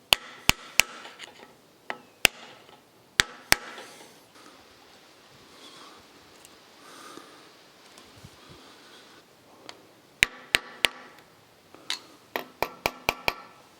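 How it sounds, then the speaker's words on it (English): Hammer striking a metal locking tab to bend it over a bolt on an old rusty engine being rebuilt, sharp metallic blows in scattered groups, several quick taps near the end, close and loud against a quiet workshop. "I want to lock the bolt in place by bending over this piece of metal"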